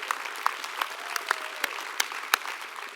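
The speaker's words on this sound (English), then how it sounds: "Let's give him a nice round of applause." A modest audience claps at a leadership celebration, with individual hand claps standing out sharply over a thinner bed of applause, fairly close.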